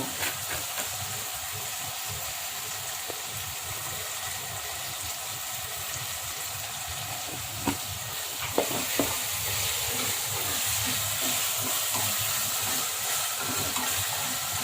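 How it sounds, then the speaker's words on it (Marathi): Mixed vegetables seasoned with salt and asafoetida steam and sizzle in a pan for basmati vegetable pulao, a steady close hiss with a few small pops and no talk. "आता थोडंसं वाफू देते"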